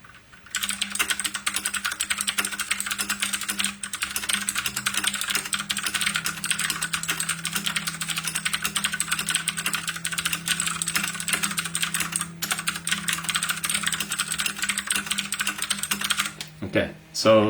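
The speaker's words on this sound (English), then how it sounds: "these are the blue switches, very satisfying to type on" Steady, rapid clicking keystrokes on a NACODEX K680T 60% wireless mechanical keyboard with blue switches, close and crisp, a continuous typing burst lasting most of the time before a brief pause and a few final presses.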